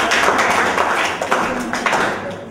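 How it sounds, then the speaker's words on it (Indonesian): A small group at a mentoring and coaching session claps together, a busy patter of hands that swells and fades slightly and sounds fairly close, with no talk over it. "Oke, tepuk tangan."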